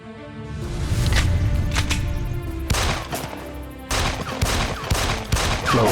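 Gunfire in a Filipino action drama episode, rapid bursts of loud shots ringing out with echoing decay, several volleys over a dense rumbling background.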